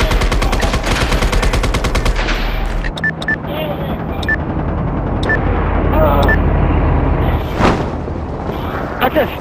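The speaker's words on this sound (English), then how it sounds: "That's a sniper that's shooting down the gas" Heavy video game gunfire from the shooter MAG in a sabotage battle on Copper Hills, with a rapid automatic burst up front and then sustained loud booms and shots throughout.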